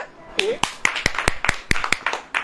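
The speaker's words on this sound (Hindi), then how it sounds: "ताली बजाए," Hands clap in a steady run of about a dozen sharp claps during a Hindi Christian sermon, with a voice speaking over the claps.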